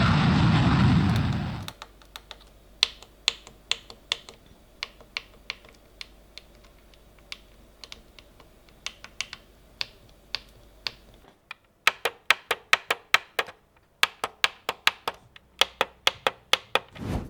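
Button and trigger inputs on a WinWing Ursa Minor flightstick click repeatedly after a brief rush of noise, with sharp, close, dry clicks in irregular bursts, some quick runs and gaps between.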